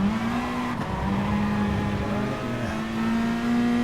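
A race car in a racing video game laps Monza, its engine holding a loud, steady high drone that dips briefly as it shifts or lifts off, then climbs again.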